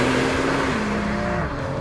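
A Porsche 911 992 Turbo S engine and exhaust give a loud, steady rushing whoosh from inside the car under hard acceleration, with a droning engine note that dips slightly in pitch.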